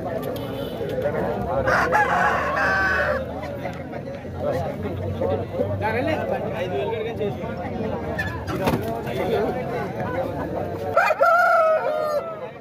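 A rooster crows loudly near the start and again near the end at a Saturday country-chicken market, over a busy crowd with many voices chattering throughout.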